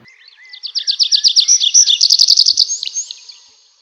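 Close, clear birdsong: a fast run of sharp, high-pitched tweets rising into a steady trill, lasting a few seconds on its own.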